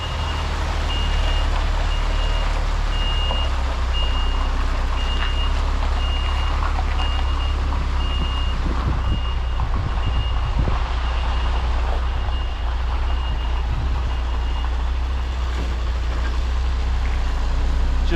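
A delivery truck reverses on a road, its evenly spaced reversing beeps repeating over a loud, steady low engine rumble heard from inside the cab.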